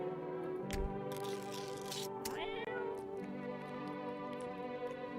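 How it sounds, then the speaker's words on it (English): A cat meows a few times inside a horror video game, set against a steady droning ambient score and a short rising tonal sweep, with no talking. "Okay, now I need to go feed the kitty."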